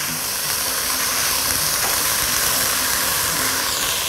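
Steady sizzling hiss from ingredients sautéing in a hot pan while making creamy pasta soup, continuous and fairly loud with no talking.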